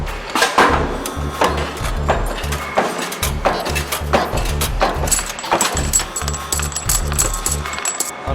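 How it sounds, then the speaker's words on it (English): A motorised press punches 1 oz, 39 mm silver rounds out of a rolled silver strip, with a steady motor hum and loud, regular metallic thumps of the punch repeating about twice a second, close up. "blanking it, and the motor's just pressing those round punches down"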